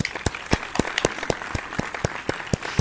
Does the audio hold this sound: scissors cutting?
no